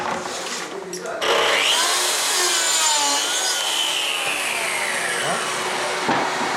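A Fermacell gypsum-fibre floor board is sawn through, steady continuous rasping strokes loud and close, starting after a brief quieter moment and running almost to the end.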